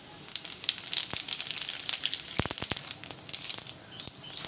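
Cumin seeds and dry red chilies dropped into hot mustard oil, a quiet, steady sizzle with scattered sharp crackles and pops, a few louder spits clustered midway.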